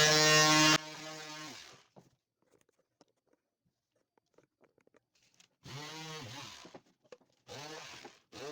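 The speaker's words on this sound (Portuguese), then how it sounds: "agora eu vou lixar. Eu vou usar a lixadeira" An electric sander works a baby tray made of MDF with 220-grit paper, whirring in two bursts: a short one at the start and a longer one near the end. Quiet gaps with faint small clicks separate them.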